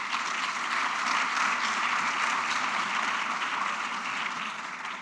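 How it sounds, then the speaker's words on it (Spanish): Sustained applause from a congress audience after three round-table panelists are introduced, dense and even for the whole stretch, with no speech over it. "Les pido un aplauso para los 3."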